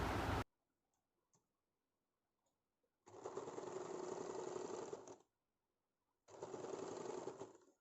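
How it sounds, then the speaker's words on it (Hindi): A sewing machine stitching blouse belt fabric and its lining together runs in two steady mechanical bursts of about two seconds each, separated by near silence with faint clicks. "ये जो फैब्रिक और अस्तर दोनों एक साथ मिला के यहाँ पे सिलाई देना है"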